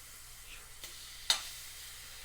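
Steak searing in oil in a hot pan, a steady soft sizzle running throughout with a couple of brief sharper spits, close and fairly quiet with no talking.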